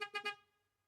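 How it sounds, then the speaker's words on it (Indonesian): A car horn beeps three times rapidly, sharp and nearby, then fades out into quiet. "Contoh bunyi klaksonnya seperti ini."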